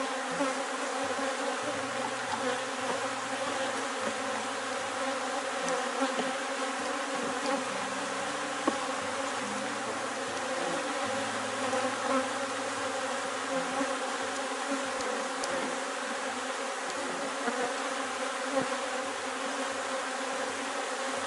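Steady, dense buzzing of a honey bee swarm at an opened hive during colony splitting, a continuous near drone with no talk over it.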